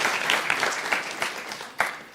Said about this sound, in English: Chris, another round of applause to Mr.